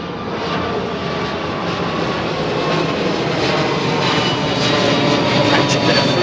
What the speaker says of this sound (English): Single aisle jet flying all the way across the Atlantic.